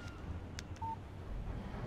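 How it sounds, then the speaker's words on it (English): A short electronic phone text-message tone in the video game Alan Wake: a couple of quick bright chirps followed by a brief pure beep, faint over a low background hum. "Text message from Barry"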